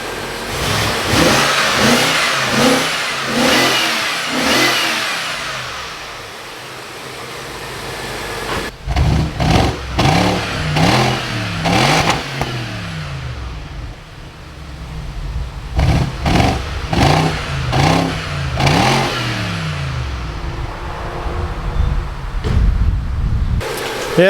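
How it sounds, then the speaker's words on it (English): A BMW E53 X5 engine idles and then revs repeatedly in bursts, each rev rising sharply and falling back, loud and close with no talking. "let me guys give you a couple revs."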